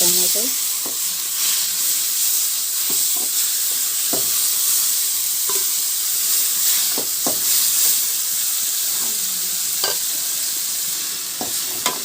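Chopped tomatoes frying in a pan for egg biryani, with a continuous bright sizzle and hiss broken by frequent clinks and scrapes of a spoon stirring the pan.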